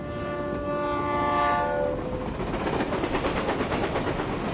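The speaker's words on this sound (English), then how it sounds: "And why is the stupid train never on time?" A train passes with its horn sounding, a loud sustained horn tone in the first half fading into the rumble and rhythmic clatter of the cars rolling by close at hand.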